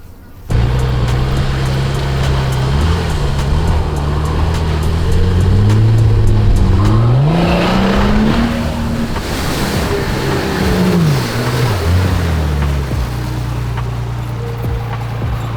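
A heavy 4WD vehicle drives a muddy track near Auckland, its engine droning steadily, then rising and falling in pitch as it accelerates, loud and close throughout with splashing noise.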